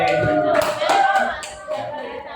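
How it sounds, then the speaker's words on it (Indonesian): Clapping from a classroom group to thank Group B, with several hands beating in a quick irregular patter and a voice or two mixed in over the steady room noise. "tepuk tangan untuk kelompok B"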